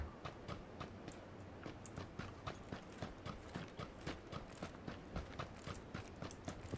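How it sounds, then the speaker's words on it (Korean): Footsteps in the video game PUBG while searching a school area: a steady, even run of soft thuds that goes on throughout, faint and with no talking over it. "발소리 난 것 같아."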